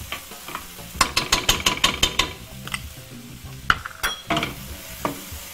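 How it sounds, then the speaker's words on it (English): Tomato paste is stirred in a pan while starting a curry sauce, with a spoon scraping and clacking in a quick regular rhythm over a light sizzle. Scattered louder scrapes follow, close and alone with no talk. "I'm just mixing it around to help melt that tomato paste and start our sauce."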